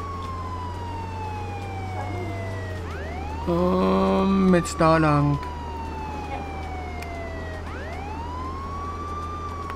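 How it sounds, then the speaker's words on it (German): A police siren in a video game wails continuously in rising and falling sweeps over engine hum, with a brief burst of talking midway. "Ja, Sirene ist an."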